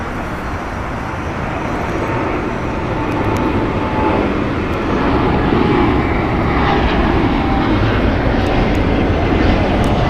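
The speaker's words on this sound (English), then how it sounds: "Departing there is American Airlines Flight 27 going to Tokyo, Haneda. It's a Boeing 787-8 Dreamliner." An American Airlines Boeing 787-8 Dreamliner takes off from LAX, a loud, continuous jet roar that swells slightly and sustains for ten seconds, with no voices.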